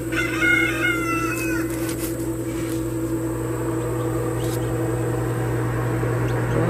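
Baby chicks hatch inside a homemade incubator, their high, thin peeps clustered near the start and scattered faintly afterward over a steady low mechanical hum.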